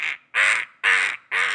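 Voice imitating a bird squawking down a chimney: four loud, harsh, nasal squawks close up, in an even rhythm with short gaps.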